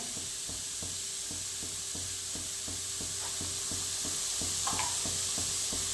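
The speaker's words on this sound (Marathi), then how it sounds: "आता हे छान असं परतून घ्यायचं" Paneer bhurji stir-frying in a pan over full flame, a steady close sizzle and hiss with a regular scraping rhythm from the spatula stirring throughout.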